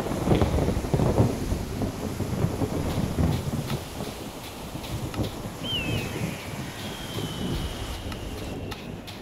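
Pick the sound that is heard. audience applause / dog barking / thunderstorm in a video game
thunderstorm in a video game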